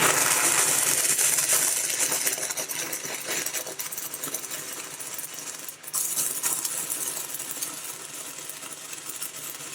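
Arc gouging with an Eagle 188 airless gouging rod along a weld, a loud, harsh continuous crackling hiss that runs steadily and dips briefly partway through.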